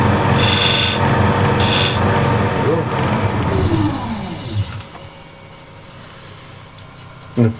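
A woodturning tool shear-scrapes a wooden bead bowl spinning on a lathe, giving a loud, steady rasping hiss over the motor hum that fades off as the cut ends.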